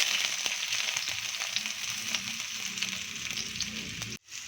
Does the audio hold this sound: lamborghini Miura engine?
no